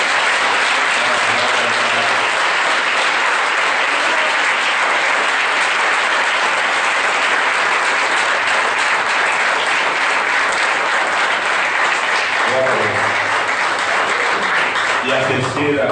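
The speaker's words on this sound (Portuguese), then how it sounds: "Aplauda o Senhor bem forte." Church congregation applauding loudly and steadily throughout, a dense sustained wash of clapping from a large crowd, with some voices rising toward the end.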